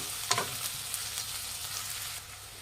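Egg puff filling with garlic paste and turmeric frying in a pan gives a steady soft sizzle, close and fairly quiet, with a brief stirring scrape near the start.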